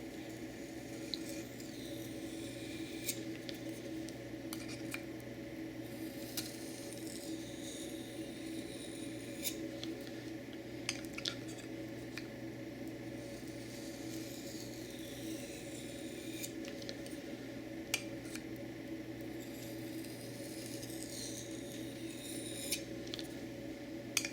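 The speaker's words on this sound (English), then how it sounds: "Okay, so now that we have sheared off the burr" Shearing off a burr with high-angle passes on a sharpening stone gives faint, quiet scraping strokes and occasional light ticks over a steady low background hum.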